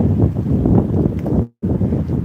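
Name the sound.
wind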